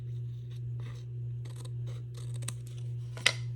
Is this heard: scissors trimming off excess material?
yes